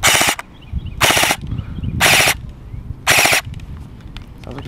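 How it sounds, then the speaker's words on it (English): Custom MK18 Mod 1 airsoft rifle on an 11.1 battery, firing 2.5 BBs in full auto: four loud, rapid bursts of buzzing mechanical rattle, each about a third of a second, separated by brief pauses with faint background noise. "We go full auto now."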